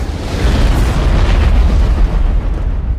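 An evacuation plane explodes in a film scene after gunfire ruptures its fuel tank, making a loud, sustained, rumbling blast that fills all three seconds.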